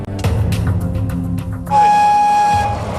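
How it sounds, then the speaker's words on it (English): Ride on the miniature train at Neverland Ranch, the Santa Barbara estate: low rumbling wheels and chugging under steady rail noise, then a loud, sustained steam-style whistle blast near the end. "As you can hear, we're on the train to Neverland."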